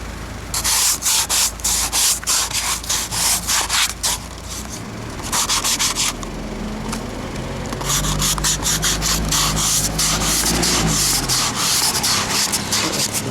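A frosted car window being scraped clear of ice on a cold morning, a steady rasping scrape repeated in quick strokes, close and loud, with brief pauses between passes.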